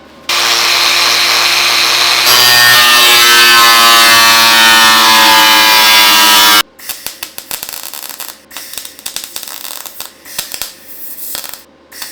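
A power tool cuts a curve into the bodywork of a BMW E28, starting with a loud, sustained high-pitched whine for several seconds, then breaking into short, uneven scraping bursts close by, with no talking.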